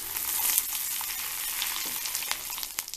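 Spices sizzle and fry in hot oil for an instant mango pickle with curry leaves, a steady crackling hiss with sharp pops near the end, close and fairly loud with no talking.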